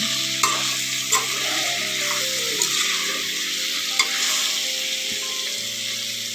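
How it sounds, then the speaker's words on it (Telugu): Fish pieces frying in oil for an Andhra-style fish curry, a steady close sizzle with a few sharp spatters and clicks as they are turned, no voices. "ఈ విధంగా చేపలను వేసినాక ఒక్కసారి మనం కొంచెం ఫ్రై చేసుకున్నాక"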